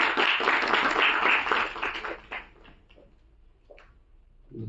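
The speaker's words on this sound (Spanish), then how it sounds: "Así que le vamos a dar fuertes aplausos para que pueda iniciar con su presentación." A university lecture audience in Arica, Chile, gives loud, dense applause for a speaker. It fades out after about two and a half seconds, leaving a quiet room with a few soft knocks and shuffles.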